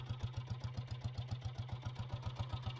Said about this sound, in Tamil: வண்டி இன்ஜின் ரன்னிங் நைஸ் மட்டும் தான் ஃப்ரெண்ட்ஸ் இருக்குது.